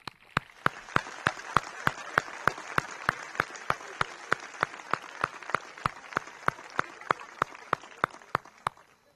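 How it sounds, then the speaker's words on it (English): Applause at a high school capping ceremony comes as sharp, evenly spaced claps in a quick steady rhythm, fairly close and crisp over a soft murmur of room noise. "one final round of applause for these gents."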